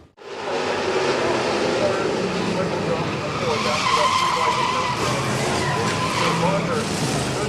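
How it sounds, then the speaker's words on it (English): A race car spins through turns 3 and 4 on an antifreeze-slicked speedway track, tires skidding and engines roaring steadily and loudly throughout, with a faint voice underneath. "TJ Barker gets into that antifreeze and spins in turns 3 and 4."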